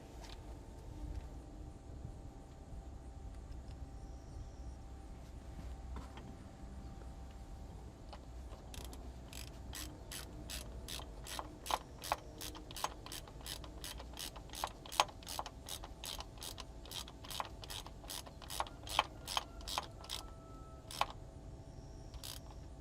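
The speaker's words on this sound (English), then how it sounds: "I'm using a half-inch drive here, which is way overkill" A half-inch drive ratchet tightens a speed sensor bolt on a Cummins ISX15 engine, giving a rapid run of sharp, evenly spaced clicks over a low background hum, close and fairly loud.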